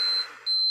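A small timer gives two high, piercing electronic beeps, close and steady, separated by a short gap, during a clarinet workshop.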